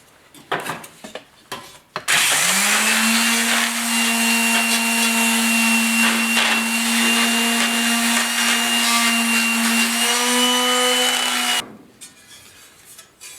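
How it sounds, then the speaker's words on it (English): Filler on the bed bodywork of a 1969 Ford Bronco is sanded with a power sander, a loud, steady, close whine running continuously for about ten seconds before cutting off, with brief clatter before and after. "I think that we'll just give her a quick little sand."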